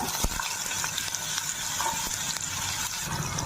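Thick, long-cut potato pieces fry in hot oil with panch phoron and black cumin, sizzling steadily up close while a utensil clicks and stirs now and then.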